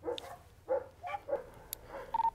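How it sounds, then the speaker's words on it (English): Dogs bark inside a house, heard faintly and muffled from outside as a handful of short, scattered barks and yips over a quiet background. "Dogs inside."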